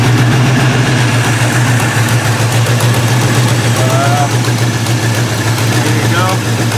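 A car engine fitted with a TH400 transmission and GM shifter linkage idles steadily and loudly up close, a low constant rumble with no revving, while a person speaks briefly over it.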